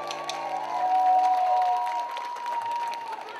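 Applause and cheering from a concert audience at Piatra Fest 2016, a loud sustained crowd swell with musical tones ringing underneath.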